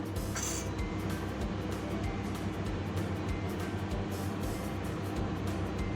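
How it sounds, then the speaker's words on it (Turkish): Steady, dense bubbling of water boiling in a pot, a continuous rolling churn close by with no voices. "Suyum kaynamaya başladı."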